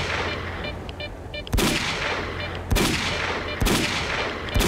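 Gunfire in STALKER: four sharp, loud single shots spaced about a second apart, each cracking out over a steady low hum of background ambience.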